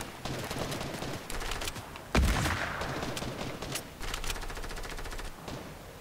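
Gunfire in the Fortnite video game: rapid bursts of automatic shots crackle near and loud, with one heavy booming blast partway through, then more quick volleys continuing in an uneven rhythm.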